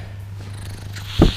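Street cats in a cat room in Jakarta purring as a low, steady hum close by, followed by a brief louder thump near the end, with no talk.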